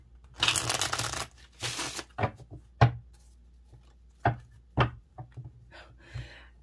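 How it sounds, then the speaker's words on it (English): A deck of playing cards being shuffled, with dense riffling bursts in the opening seconds followed by scattered sharp taps and snaps of cards being handled and squared. Close and fairly quiet, with no talking. "as I am shuffling these cards"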